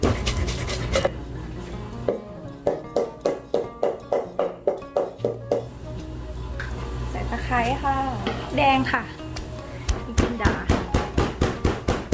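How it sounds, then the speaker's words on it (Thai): Soaked sticky rice pounded in a mortar for a Thai snail curry, a steady series of dull rhythmic thuds close by, pausing while someone speaks, then resuming with faster strikes. "ข้าวเบื่อก็คือข้าวเหนียวที่แช่น้ำจนนิ่ม ตำค่ะตำให้ละเอียดค่ะ"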